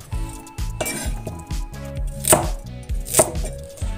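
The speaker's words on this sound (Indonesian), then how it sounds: "Iris sampai dengan selesai, lalu kemudian disisihkan terlebih dahulu." A knife chopping vegetables on a cutting board for a clear corn soup, with rapid steady thuds and a couple of sharper clinks, close and loud with no talk.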